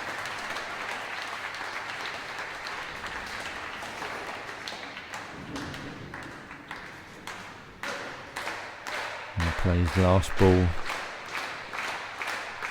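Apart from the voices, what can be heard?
applause at bowling final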